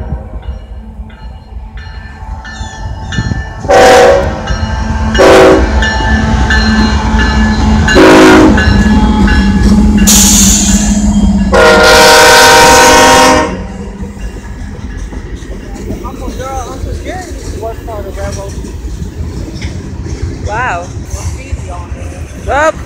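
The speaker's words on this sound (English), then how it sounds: "I can just stand here and watch the train." Loud train rumbling past nearby in Hannibal with rail clatter, punctuated by several short horn blasts and then a long sustained horn blast before the noise settles.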